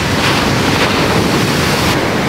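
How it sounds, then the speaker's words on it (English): Loud ocean surf crashes and splashes against rocks on a sandy shore, a continuous roaring wash of water with heavy wind buffeting the microphone throughout. "We're about to get splashed"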